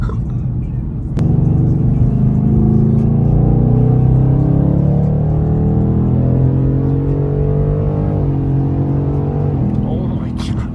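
A Ford Mustang 5.0 V8 revs up loudly through a downshift, its harmonics climbing and falling as the gears change, heard from inside the cabin with steady engine drone filling the whole stretch.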